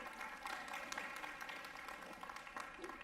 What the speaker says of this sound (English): Give yourself a round of applause for being here this morning.